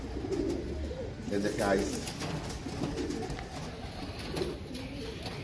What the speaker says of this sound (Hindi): ये मादा है दोस्तों, चंद्रखानी मादा है दोस्तों